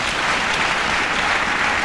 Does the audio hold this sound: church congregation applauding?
yes